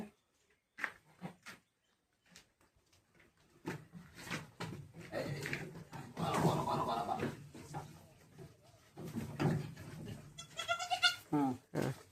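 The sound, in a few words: goat bleating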